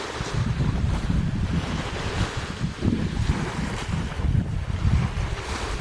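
Surf rolls in continuously on the beach at Ocean Springs, a dense, close roar of breaking waves mixed with gusty wind buffeting the microphone.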